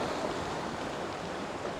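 Sea waves break against rocks below a coastal spot, a steady close wash of surf that keeps going with no distinct separate crashes.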